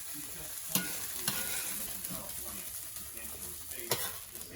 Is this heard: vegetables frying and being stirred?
yes